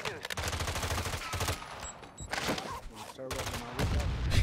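Rapid automatic gunfire in a first-person shooter video game, dense bursts of shots close and loud, with brief pauses between volleys.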